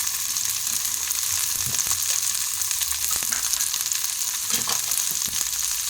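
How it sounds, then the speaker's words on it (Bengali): Loud, close frying sizzle from a pan of green peas, continuous and crackling, with occasional stirring scrapes and no talking. "মটরশুঁটিটা এভাবে করে একটু ভেজে নেব"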